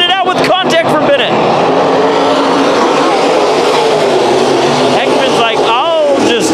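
Race cars roar around Bakersfield Speedway during a heat race, a loud, continuous engine drone with cars passing close. A commentator talks over the racing throughout.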